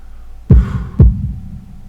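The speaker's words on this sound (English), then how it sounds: "holding my breath in an attempt to hear my heartbeat" A heartbeat sound effect from the visual novel Katawa Shoujo gives two deep, loud thumps about half a second apart, each with a short resonant decay, alone with no speech.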